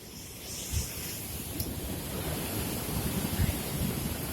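Surf crashes over a coral reef just off an island on the coast at Ujong Lhok Geulumpang beach in Calang, Aceh Jaya, making a steady, close broadband roar with wind and a few heavier surges.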